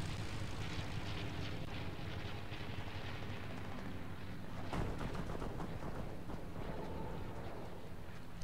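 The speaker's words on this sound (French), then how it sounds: "Il y a un avion." A plane flies in the Fortnite video game, giving a steady broad engine roar. Game sounds sit on top of it, including a sharp bang or impact near the middle.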